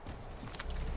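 Horse hooves walking through a foggy, snowy camp yard in Assassin's Creed 3, a soft steady clip-clop set against a dense wash of in-game ambience.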